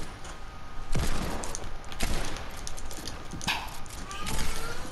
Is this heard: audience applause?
no